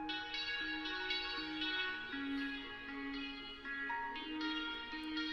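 A beat built in FL Studio with Maschine plays with a few sparse piano notes over it, a steady reverberant mix of sustained tones and rhythm at moderate level, with no one talking.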